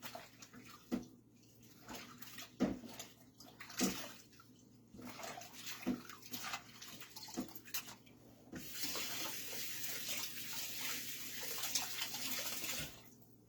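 A small kitchen mixer being washed under a running tap, with steady water splashing and clattering throughout and a louder, fuller stream in the second half.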